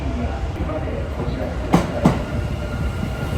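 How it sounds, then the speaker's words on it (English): A Kintetsu 50000 series Shimakaze limited express train arrives at a station. A low steady rumble of rolling stock fills the clip, with two sharp clicks of wheels over rail joints partway through. "Our train is arriving."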